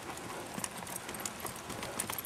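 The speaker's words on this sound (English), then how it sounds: "I'm going to trot this circle right out here." A horse's hooves trot around a circle on the ground, a quick steady clip-clop rhythm at moderate distance.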